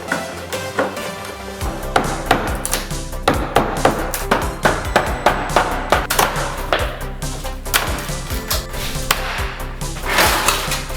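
Repeated loud banging and knocking on wood and hard surfaces as a kitchen worktop is pried and hammered loose in a 1950s house, irregular strikes, with no talking.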